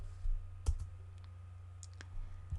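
A few light keystrokes tap on a computer keyboard while a command is typed into Rhino 3D modeling software: quiet, separate clicks in a short, uneven burst.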